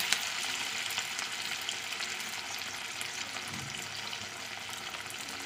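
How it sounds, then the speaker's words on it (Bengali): Small prawn fritters (kucho chingri bora) are frying in hot white oil, giving a steady, faint, even sizzle with no talk. "তেল গরম হয়ে গেছে, এখন বড়াগুলোকে ছেড়ে দিচ্ছি।"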